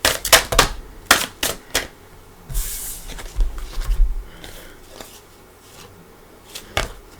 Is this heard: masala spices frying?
no